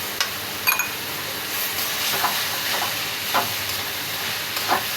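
Chopped bottle gourd sizzling in hot oil in a pan for lau chingri, with a steady loud hiss and a few faint scraping stirs, no voices.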